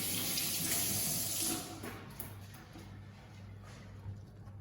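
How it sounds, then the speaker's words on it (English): Tap water runs over a handful of medium leaves being rinsed in a kitchen sink, a soft splashing stream that quiets after a second or two, faint and close. "So quickly wash this."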